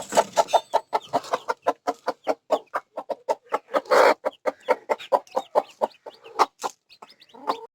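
A hen clucks beside chicks hatched the day before, giving a close, steady run of short, evenly spaced clucks with one brief rougher call in the middle.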